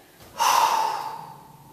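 A single forceful exhale during a morning energizing breathing exercise, a close, breathy rush of air that starts abruptly and trails off over about a second.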